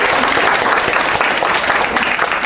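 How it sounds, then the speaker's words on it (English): Loud, dense applause fills the room for a guest brewmaster at a beer design competition, steady clapping from a large audience sustained without pause. "Can we give him a round of applause, please?"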